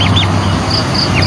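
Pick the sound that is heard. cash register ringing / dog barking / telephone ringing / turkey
turkey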